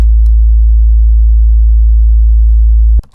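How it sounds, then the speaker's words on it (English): A pure, steady sine wave test tone from Ableton, loud and unchanging for about three seconds before cutting off abruptly into near silence. "Let's check out just the sine wave and make sure that everything looks right."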